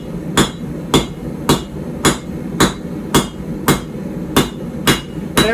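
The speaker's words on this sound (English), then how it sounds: "I'm going to start hammering the tip in it." Ten evenly spaced, ringing hammer blows strike metal in a steady rhythm while forging the tip of a puukko knife blade, loud and close, with no voices.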